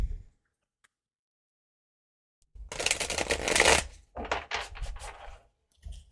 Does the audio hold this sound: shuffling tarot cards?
yes